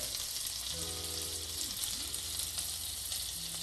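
Baguette pieces frying in melted, caramelized butter give a steady close sizzle throughout, with a low tonal hum sliding up and down underneath.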